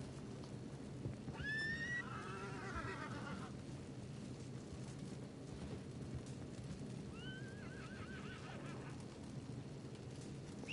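A horse in the Red Dead Redemption video game gives two whinnies, the first louder around the start and a fainter second later, over a steady low background rumble of ambience.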